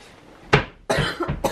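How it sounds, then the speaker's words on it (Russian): A child coughs indoors in the morning, three or four sharp, close coughs in quick succession, with no talking. "Ты что кашляешь?"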